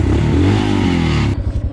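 A motorcycle engine runs loud and close with a throaty low rumble, surging steadily before cutting down abruptly into rough sputtering near the end, like a bike that keeps stalling on hilly roads in Kerala.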